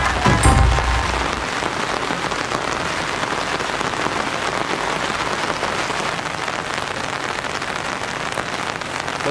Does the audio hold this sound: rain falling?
yes